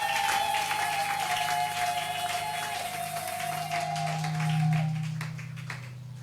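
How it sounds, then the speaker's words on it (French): A church congregation at a family worship service applauds and cheers in a dense, steady wash, while music and a sustained tone run underneath. "Est-ce que tu peux manifester cela en acclamant fortement pour la gloire de Dieu?"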